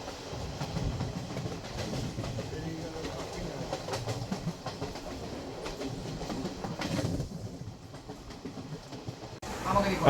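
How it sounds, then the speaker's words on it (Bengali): An express train rushes past alongside a moving passenger train, a dense rumble and clatter of wheels on rails with a sudden brighter burst near the end as it clears. "পাশ দিয়ে না জানা একটি এক্সপ্রেস ট্রেন চলে গেল।"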